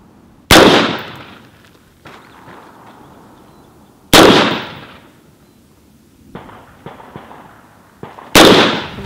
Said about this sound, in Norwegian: Det er fire enkle skudd i eget tempo